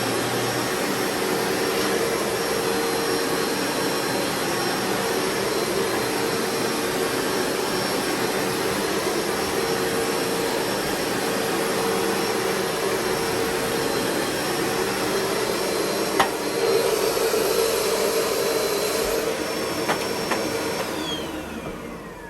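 A Bissell carpet cleaner runs continuously while drying a carpet, giving a loud, steady whining suction roar close by, with a brief shift in tone near the end.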